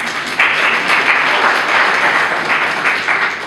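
Loud, close applause from an audience at an association gathering during Ramadan, dense continuous clapping with slight swells, no voices over it.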